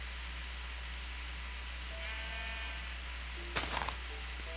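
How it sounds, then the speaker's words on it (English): A sheep in modded Minecraft gives a brief, faint bleat over a steady low hum, with a few soft clicks and a short scuffing noise shortly after. "Yeah, so there's definitely sheep here."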